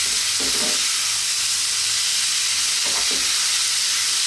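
Cooked ham tossed and frying in a hot pan, a steady broadband sizzle throughout with two brief stirring scrapes near the start and again later; no one talks.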